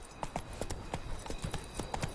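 Horse galloping in The Witcher 3, rhythmic clip-clop hoofbeats in quick repeating groups, moderately near and steady.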